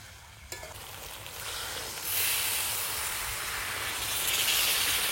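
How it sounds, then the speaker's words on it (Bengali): Water poured into a pan of meat and potato curry hisses and sizzles steadily, the sizzle swelling after a sharp splash and staying loud and close with no talk. "এবার জল দিয়ে দেবো।"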